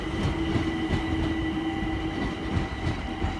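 A Class 378 train heads into Stratford, a steady rumble of wheels and carriages with faint rhythmic clicks over the track and a thin squealing tone, heard from a short distance with no voices.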